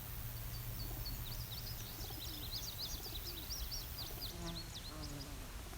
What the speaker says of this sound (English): You can really hear that indigo bunting going. These guys are cooing.